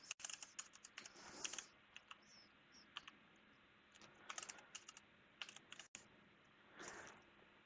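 A master password is typed on a computer keyboard in short, quiet bursts of key clicks with brief pauses between them.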